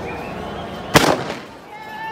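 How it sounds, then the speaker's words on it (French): In a Paris street during the World Cup, a firecracker goes off with one sharp, loud bang and a short crackling tail, heard over the low murmur of people talking nearby. "C'est quoi ça? C'est un pétard."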